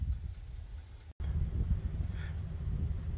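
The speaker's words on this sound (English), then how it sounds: "Just the wind for company" Wind blowing at Fairport Harbor, Ohio, a small fishing harbor town, a low gusty rumble against the microphone with a brief dropout partway through.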